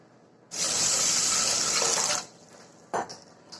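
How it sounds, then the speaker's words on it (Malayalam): Tap water runs steadily into a bowl of rice and lentils for about two seconds, then stops, followed by a brief splash and swishing as the grains are rinsed, close and clear. "ഒരു 2-3 പ്രാവശ്യം നന്നായിട്ട് വാഷ് ചെയ്തിട്ട് എടുക്കാം കേട്ടോ"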